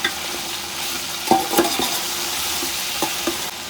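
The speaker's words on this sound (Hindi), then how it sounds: "चिकन फ्राई करते हैं 5 मिनट तक।" Chicken pieces frying in a pan with a steady, close sizzle, broken by a few sharp clinks and scrapes as the pieces are stirred around, with no talking.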